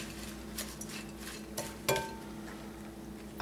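Salad with chopped almonds and extra virgin olive oil being tossed, soft close stirring and rustling with a few light clinks and one sharper knock, quiet and intermittent.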